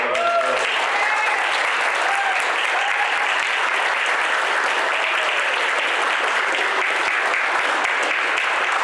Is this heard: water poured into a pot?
no